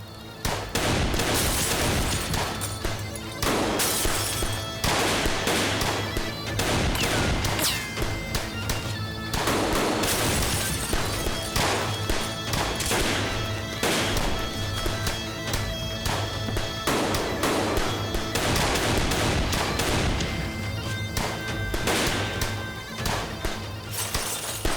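Dense, loud bursts of automatic gunfire and crashing impacts fill a dubbed Turkish TV drama shootout, near-continuous volleys with brief gaps and no talk over them.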